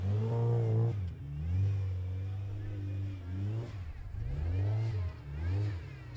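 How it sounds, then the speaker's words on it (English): K24 Honda-powered off-road compensator buggy at an extreme 4x4 challenge event, its engine revving and surging uphill in repeated rising and falling bursts, loud and close, with a commentator talking over it. "Such smooth driving by Angus there in the K24 Honda-powered compensator"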